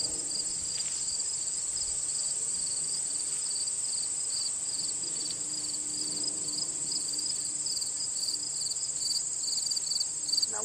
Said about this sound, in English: what I'm actually listening to are the sounds of birds, butterflies, grasshoppers, the wind